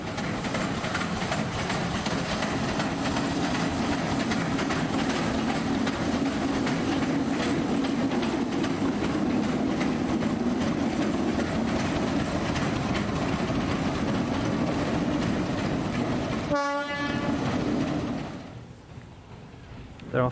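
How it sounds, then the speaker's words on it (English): A Class TU2 diesel locomotive rumbles continuously at close range as it runs around its train at the Vinogradov terminus. A short horn toot sounds near the end, and then the engine noise drops away. "one of the line's Class TU2 locomotives runs around its stock in the terminus station"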